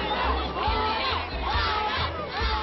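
A large crowd of spectators shouts and cheers together in loud, rhythmic surges of massed voices, close and continuous, rising and falling like a chant.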